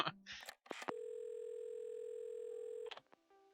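Telephone dial tone from the game Assemble With Care, a steady two-second tone after a few clicks and beeps of a handset being picked up, then a short tone afterward; no voices.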